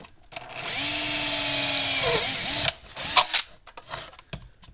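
A power drill whirs steadily for about two seconds, winds down, then bites in short bursts as it chews through the plastic of a Gallagher M1500 electric fence charger, close and loud.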